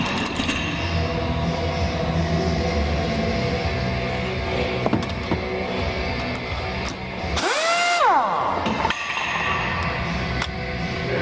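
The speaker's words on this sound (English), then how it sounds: "go ahead and remove this nut" Work on the rear shock of a 2008 Ford Edge: steady mechanical whirring from a power tool spinning off a nut, with a brief rising whine partway through and faint metallic clinks, close and even in level.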